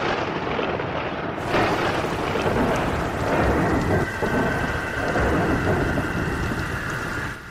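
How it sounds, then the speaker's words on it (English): A thunderstorm with steady, heavy rain pouring throughout and deep rolling thunder rumbling under it, loud and continuous with no talking. "I guess the storm is coming back in a big way."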